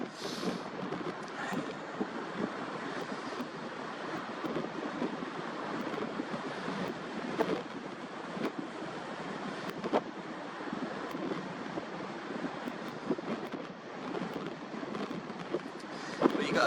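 Ocean waves wash and rumble under gusting wind buffeting the microphone, a steady moderate noisy wash with a few stronger surges.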